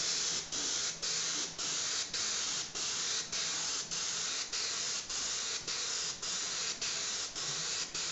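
An aerosol can lays a black coat on a Boba Fett helmet in sustained, even hissing bursts. About a dozen regular sprays are separated by short pauses, close and steady, with no talking.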